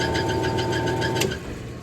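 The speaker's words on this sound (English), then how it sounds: "we're gonna spin the motor without the pulley" Motor of a Ross custard machine spins with the belts and pulley removed, a steady close mechanical hum with a brief rise then a slight drop in level.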